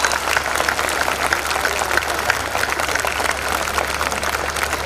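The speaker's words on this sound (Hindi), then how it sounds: "एक बार जोरदार तालियां" An audience at a Hindi kavi sammelan poetry recital in Lucknow breaks into loud, sustained applause, with dense clapping and a few rhythmic sharper claps running throughout.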